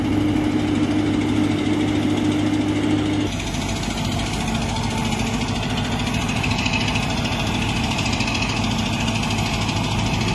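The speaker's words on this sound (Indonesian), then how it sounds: "Mantap ya suara bulldozernya, kayak menggunakan engine dompeng." Caterpillar D11R bulldozer engine pushing a Hitachi excavator, a rough, loud diesel drone with a knocking throb that shifts in tone partway through and keeps running steadily.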